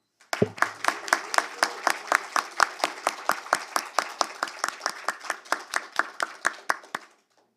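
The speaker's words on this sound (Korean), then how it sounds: "우리 한번 크게 한번 환호와 박수 좀 보내주십시다" Audience applause at a corporate governance awards ceremony, steady rhythmic clapping of many hands in unison for about seven seconds, fairly close and even, then stopping abruptly.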